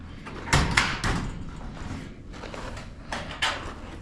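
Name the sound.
shed door latch opening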